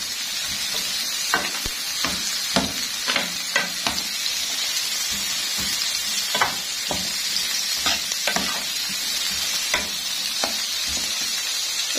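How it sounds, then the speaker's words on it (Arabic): Onions fry in a pan with a constant sizzling hiss, punctuated by repeated sharp scraping and stirring taps at an irregular rhythm, close and fairly loud. "وننزل بالبصل كده زي ما انتم شايفين، نزلنا بالبصل"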